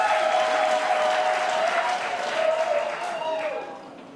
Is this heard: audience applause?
yes